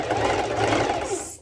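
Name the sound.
sewing machine stitching fabric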